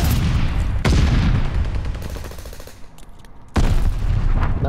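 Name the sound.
gunfire at a hard point in a video game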